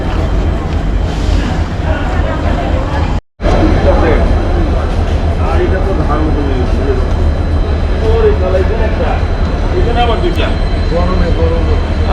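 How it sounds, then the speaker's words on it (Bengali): A train rumbles steadily and loudly as it pulls into Badarpur Junction station in Assam, with voices murmuring over the heavy mechanical noise. "আমাদের ট্রেন যখন এসে পৌঁছালো আমাদের পরবর্তী স্টেশন বদরপুর জংশনে"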